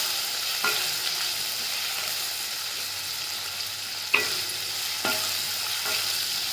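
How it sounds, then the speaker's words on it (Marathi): Potatoes sauté in oil in a pan for aloo methi, giving a steady close sizzle broken by a few sharp scrapes and clinks of a spatula stirring, with no talking. "बटाटे चांगले परतून घेतात."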